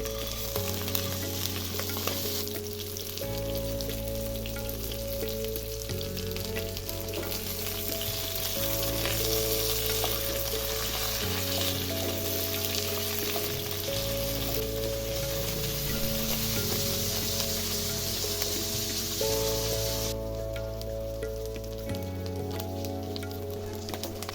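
Parshe fish frying in mustard oil in a kadai, a loud, continuous close-up sizzle that stays steady for the whole stretch, with a low electrical hum underneath.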